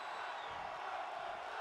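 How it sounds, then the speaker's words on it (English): Crowd noise from a WWE 2K25 wrestling video game match: a steady, dense wash of chanting and cheering from a virtual arena audience, continuous and fairly distant, with no distinct voices standing out. "Their crowd's chanting one more time."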